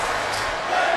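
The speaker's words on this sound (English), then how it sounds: "This crowd is unhinged right now." Arena crowd in the WWE 2K23 wrestling video game, a loud dense roar of cheering filling the whole short moment without a break.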